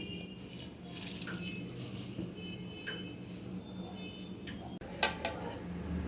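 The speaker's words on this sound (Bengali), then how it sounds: "এবারে এই জলগুলো সব চিপে চিপে বার করে ফেলে দেবো" Salted raw mango pieces for a pickle being squeezed by hand over a bowl, with water trickling and dripping steadily, close and soft, followed by a couple of sharper wet splashes near the end.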